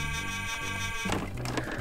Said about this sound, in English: You can beep the horn and the lights flash.